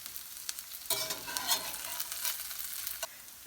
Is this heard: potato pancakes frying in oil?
yes